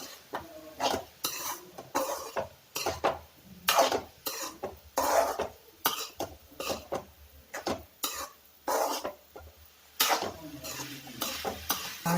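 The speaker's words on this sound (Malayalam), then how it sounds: "ഇനി നന്നായിട്ടൊന്ന് മിക്സ് ചെയ്ത് കൊടുക്കാം." A Kerala-style banana flower and green gram stir fry being stirred in a pan, a close series of irregular scraping and tapping clinks from a spoon against the pan, with faint sizzling underneath and no talking.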